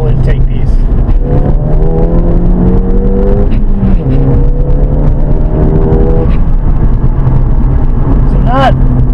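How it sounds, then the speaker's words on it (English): Ford Fiesta with a foam intake filter accelerating hard in second gear and shifting into third, a loud, steady engine drone rising in pitch, dipping briefly at the shift, then climbing again, recorded close up throughout. "So I'm going to do a quick second gear pull, second to third really, so I can show you the sound of the foam filter"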